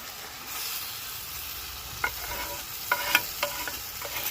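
Fried chicken pieces are stirred into spicy masala in a hot pan for Afghani chicken, giving a steady soft sizzle with scattered clinks and scrapes of a spoon, close and without talk.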